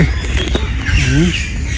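Birds squawk in a warm coastal area of Lekki, Nigeria, where monkeys are about: a couple of short, harsh, rising calls close by over a steady outdoor background, heard without talk.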